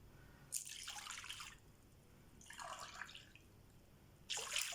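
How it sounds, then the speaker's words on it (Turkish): Milk is poured into a kneading bowl in three separate short bursts, a soft, close splashing and trickling with quiet pauses between pours. "Sütümüzü alalım yoğurma kabımıza."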